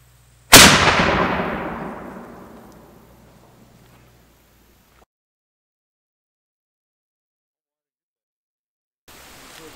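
A historic 1812-era artillery cannon fires once, a single loud, close blast with a long rumbling decay over several seconds, followed by near silence.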